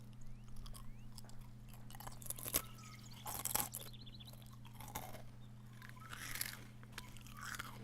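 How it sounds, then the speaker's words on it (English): Crunchy pet food chewed close up, irregular crisp crunches and bites over a low steady hum, with no talk. "There he goes with the crunching."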